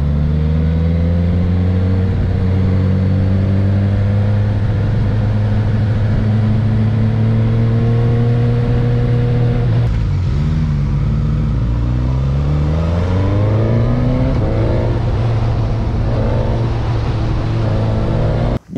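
Suzuki GSX-S1000 motorcycle engine revving loud and close, with steady harmonic drone rising and falling through repeated throttle blips and a dip near the middle, no talking.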